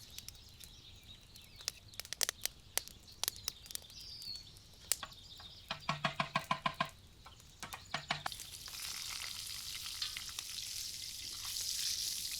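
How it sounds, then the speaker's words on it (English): Lard melting and sizzling in a cauldron over an outdoor fire, a soft, low frying hiss broken by sharp crackles and pops, a quick run of rapid spits midway, birds calling faintly in the background. "We add the lard to our cauldron and we wait until the fat melts."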